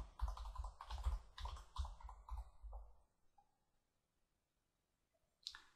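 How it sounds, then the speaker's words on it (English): Quiet, close keystrokes on a computer keyboard come in quick bursts as a password is typed, then trail off into near silence, ending with a faint click. "I have to put the password in."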